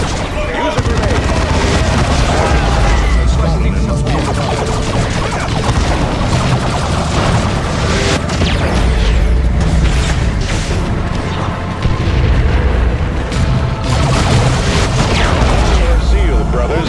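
Booming grenade and battle blasts from the Warhammer 40,000 Dawn of War II game roar without letup alongside gunfire and soundtrack, with voices speaking over the dense combat din.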